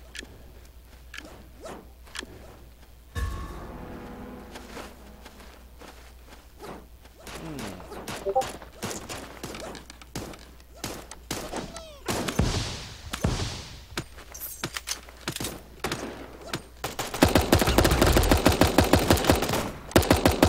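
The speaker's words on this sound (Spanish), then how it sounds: "Escucho disparos, güey, escucho disparos" Video game gunfire from Dead Trigger 2, rapid bursts of shots that build into a dense, loud volley near the end, alone with no talk.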